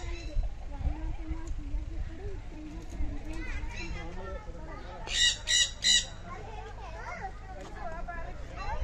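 At a zoo, Indira Gandhi Zoological Park in Visakhapatnam, a bird lets out three loud, piercing squawks in quick succession. Children and adults talk throughout.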